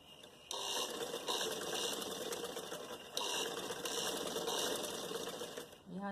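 A sewing machine stitches a sleeve seam with a continuous, fast mechanical whir that holds fairly steady, briefly dipping near the start and end, with a short voiced sound at the close.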